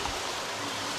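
Flowing stream water outdoors, a steady dense rushing wash that stays even and continuous throughout, with no voices.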